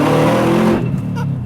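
A heavily modified Subaru WRX engine revs loudly up close with an external wastegate dump, a rough roaring burst that drops off abruptly into a lower rumble with a brief whooshing release.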